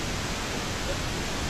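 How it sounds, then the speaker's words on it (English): Pink noise test signal during a live sound line check: a steady, even broadband hiss that holds at constant level, close and unbroken, with no other sounds. "have you guys got pink noise there now?"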